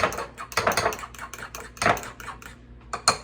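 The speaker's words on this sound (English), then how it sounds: "Mixing the eggs with the vanilla" Eggs being mixed with vanilla extract in a bowl for rice pudding, a utensil clinking and scraping against the bowl in irregular quick strokes, close and fairly loud with no talk.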